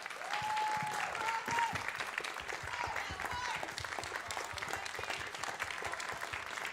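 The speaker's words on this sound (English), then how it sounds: "One last round of applause." A crowd applauds at a student union election night results event, dense sustained clapping filling the whole stretch at moderate level, with a few faint whistles or voices rising above it early on.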